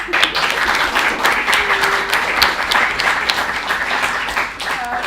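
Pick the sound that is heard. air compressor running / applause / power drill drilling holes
applause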